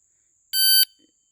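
A KST 1000 shot timer on a range box set-up gives a single short, sharp electronic beep lasting about a third of a second, loud and isolated in near silence.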